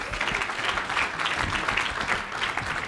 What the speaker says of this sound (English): let's give these A's and B's a round of applause.